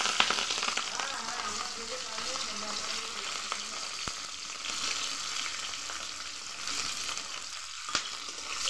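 Chopped onion frying in oil in a wok as it is stirred, a dense, steady crackling sizzle with a few sharp clicks from the spatula. Close and unbroken, with no talking.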